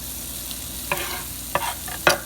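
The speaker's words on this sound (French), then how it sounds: "je retourne à ma poêle, je mets mon ail, mon oignon" Garlic and onion frying in a pan for an arrabbiata sauce, a low steady sizzle broken by three or four sharp stirring scrapes near the end, no talking.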